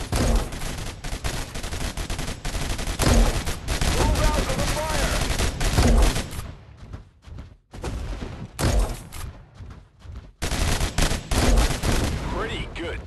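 Rapid bursts of gunfire fill a match of the video game WWR, loud and nearly continuous with a few short lulls, layered over game noise and booming shots.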